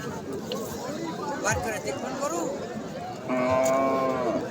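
A dairy cow moos loudly near the end at a busy cattle market, a long drawn-out low call rising over the background crowd chatter and talking voices.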